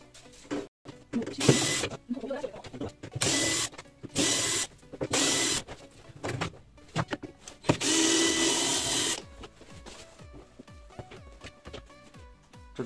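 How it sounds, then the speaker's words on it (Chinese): An impact wrench loosens a tight cap nut on a washing machine, firing in repeated short rattling bursts of varying length, with a long sustained burst in the middle and clanks and tool handling between bursts. "用捶打扳手比较轻松一些。"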